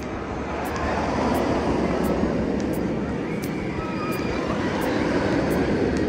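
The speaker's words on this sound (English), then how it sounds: "how it's even cooler when you have that aspect of the planes flying overhead coming in from the" Planes on approach to Charlotte airport pass overhead at the Carowinds Aeronautica Landing area, a loud, steady broadband roar that holds for several seconds with faint regular ticking above it.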